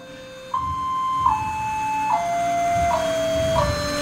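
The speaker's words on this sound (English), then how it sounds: "this is how the internal sound speaker sounds when you amplify the sound" Stepped electronic tones from the amplified internal speaker of a LEGO Mindstorms gramophone build, a steady descending sequence of pure beeps each held about a second, fairly loud over a low room hum.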